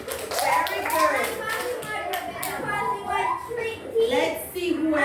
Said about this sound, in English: Let's give Eugene a round of applause.